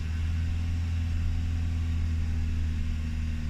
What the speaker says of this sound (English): When I start the car and throttle is on